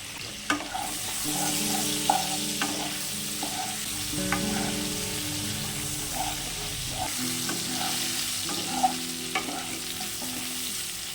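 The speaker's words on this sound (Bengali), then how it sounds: "আমাদের আলুগুলো ভাজা হয়ে গেছে" Cubed potatoes seasoned with salt and turmeric frying in oil, a continuous low sizzle with occasional spatula taps and scrapes, heard close under a steady background tone.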